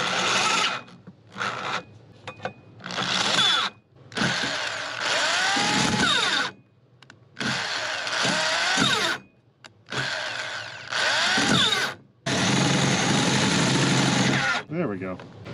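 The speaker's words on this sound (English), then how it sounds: "and I'll drill these to match" A power drill whines in repeated bursts, each spinning up as the bit bites into metal in a 1953 Kenworth Pacific truck interior, with short pauses between holes.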